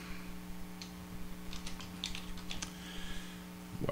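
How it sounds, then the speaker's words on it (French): Soft clicks of a computer keyboard as text is entered, irregular light taps spread across a few seconds over a steady electrical hum, with no talking. "On va écrire un texte."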